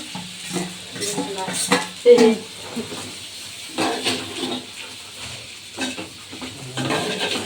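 A spatula scrapes and stirs food in a sizzling pan in irregular strokes, with occasional clinks of metal, close by.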